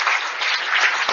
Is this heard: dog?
no